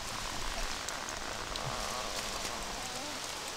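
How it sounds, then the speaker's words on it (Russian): Steady rain pours in the Mafia: The City of Lost Heaven game, a dense, even hiss of drops on surfaces, continuous and moderately quiet with no speech. "Деревья скрипят, льет дождь."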